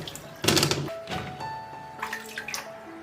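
Kumquats rinsed again in water after their tops and tails are trimmed, with a splash and sloshing burst followed by lighter dripping, clinks and handling sounds, close and fairly quiet.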